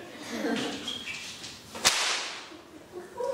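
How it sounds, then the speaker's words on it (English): A single sharp crack from a 6-foot whip rings out near the middle, loud and close, between quieter rustling movement with no speech. "The most dangerous way to crack a 6-foot whip!"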